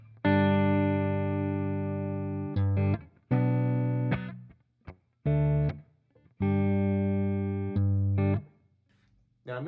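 A clean electric guitar, without reverb, plays sustained chords and notes, ringing out in several phrases separated by short pauses.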